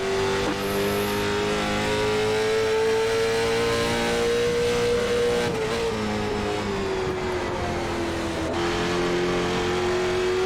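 Late model stock car engine in the iRacing racing game at USA International Speedway, a loud sustained drone holding steady pitch, dipping and rising as the throttle is blipped mid-corner, alone without talk.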